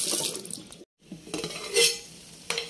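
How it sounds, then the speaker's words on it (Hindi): Running tap water splashes over fresh mint and kewra leaves being washed in a kitchen sink, with a short break in the flow, intermittent splashes and faint clinks of dishes nearby. "धो रही हूँ इसको।"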